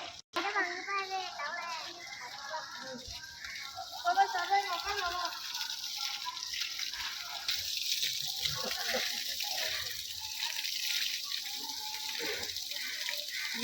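Temple holy water gushing forcefully at the Ramakiri Kala Bairavar temple in Andhra Pradesh, a steady loud rush of splashing flow running throughout, with voices, including a child's, talking over it.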